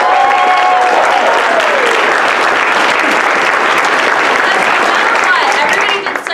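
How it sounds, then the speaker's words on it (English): A loud, sustained round of applause from a theatre audience at a ten-minute play competition night, dense clapping and some cheering filling the whole stretch before tapering off at the very end. "can we get a round of applause for everyone here tonight?"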